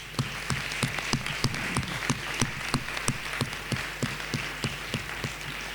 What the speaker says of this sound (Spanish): Damos un aplauso, ¿verdad?,